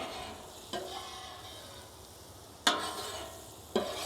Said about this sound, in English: I'll put down a little more butter for these eggs. Move that around, all the way around.